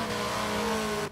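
A 1970 Dodge Coronet Super Bee with a Hemi engine in the Forza Motorsport 7 racing game roars loud and close at high revs, a steady engine tone that holds, then cuts off abruptly at the end.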